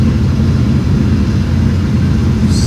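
Airliner thrust reversers roar during the landing rollout in a flight simulator game, a loud, steady low-pitched engine rumble filling the whole short stretch, with a brief higher chirp at the end.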